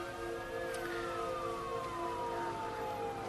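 An ambulance siren wailing with a slowly falling tone, steady and moderately loud over background road noise, with no talking.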